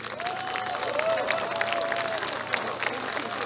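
Steady crowd applause at Rafał Trzaskowski's pre-election rally, a continuous clapping texture with a voice calling out over it early on.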